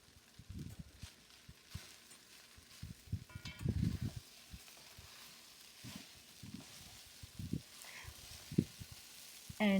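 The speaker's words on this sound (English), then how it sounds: "And fry everything on a high heat." Egg fried rice with vegetables frying over high heat, soft sizzling under irregular scraping and stirring strokes, with clanks of a utensil against the pan, quiet and close.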